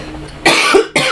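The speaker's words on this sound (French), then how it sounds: "Ça doit être l'encens qui me fait tousser." Two sharp coughs in quick succession, close and loud, with a short gap between them.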